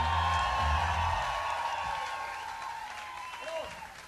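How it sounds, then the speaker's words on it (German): Big rock concert crowd in Berlin clapping and whooping, a dense, loud wash of applause that slowly tapers off. "Ladies and Gentlemen, einen fetten, dicken Applaus"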